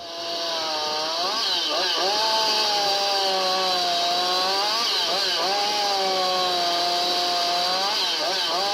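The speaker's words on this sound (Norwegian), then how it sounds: "La meg få den saga." A motorized saw runs continuously and loud, its pitch dipping and recovering as it bites into material, with a steady high whine throughout.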